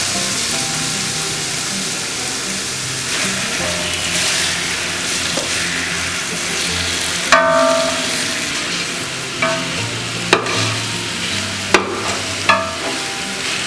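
Chicken pieces and softened onions sauté in a hot pan, giving a steady close sizzle with the scrape and clatter of stirring, plus a few sharper knocks of a spoon against the pan near the end.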